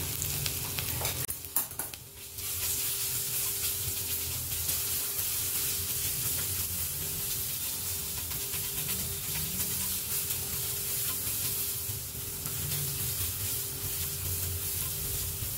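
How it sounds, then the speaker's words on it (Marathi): A paste of ginger, garlic, cumin and ajwain fries in hot oil after asafoetida, a steady loud sizzle and hiss with a few clattering stirs near the start, no talking. "हिंग तडतडलं की आपल्याला अद्रक, लसूण, जिरे आणि ओवाची पेस्ट टाकून घ्यायची"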